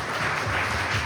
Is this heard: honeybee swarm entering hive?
no